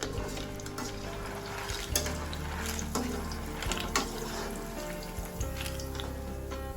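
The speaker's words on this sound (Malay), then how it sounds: "Kuih yang diangkat ni kita akan toskan minyak dan gorenglah kuih sama seperti tadi sehingga habis" Kuih, a Malay festive snack, deep-frying in oil with a continuous bubbling sizzle and light clatter of stirring, close and steady throughout without talk.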